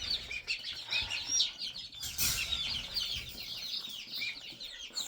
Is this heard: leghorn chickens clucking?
yes